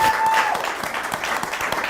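A live fundraiser audience applauds and cheers, a dense wash of clapping filling the room continuously and fairly loud, with a brief whistle at the start.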